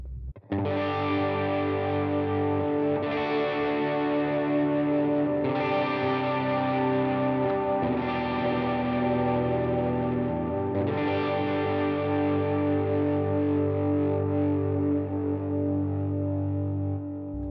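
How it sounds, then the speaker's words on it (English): A 2025-model electric guitar playing sustained, chiming chords drenched in reverb and echoing delay, with a few fresh strums layering over the lingering wash; steady and fairly loud. "Still sounds really just fantastic with reverb and delay."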